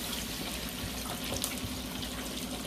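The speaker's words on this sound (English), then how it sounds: "in my pot here, I'm gonna add my vinegar in" Vinegar pours into a pot for a Jamaican escovitch fish sauce, a faint steady liquid trickle and hiss that stays even throughout.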